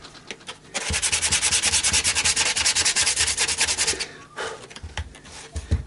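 Sandpaper rubbed briskly over a cheap Chinese-made electric guitar neck at a lighter grit, a loud rhythmic rasp of fast back-and-forth strokes lasting about three seconds, then scattered softer scrapes and handling noise.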